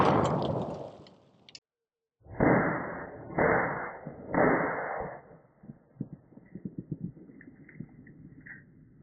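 A SCAR Heavy rifle fires on an outdoor range at a Level IV lightweight armor plate, with several loud, close shots spaced about a second apart, each followed by a short ringing decay, then fainter scattered clicks.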